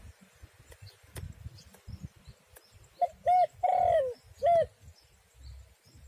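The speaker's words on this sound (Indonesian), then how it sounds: "Burung tekukur guys." A spotted dove coos outdoors during a bird hunt: a few mellow, rounded coos in a short phrase, fairly close and clear over quiet background rustle.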